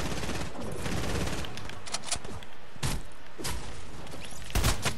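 Video game shotgun fire crashes out in repeated loud blasts over steady battle noise, with sharp booming shots standing out near the end.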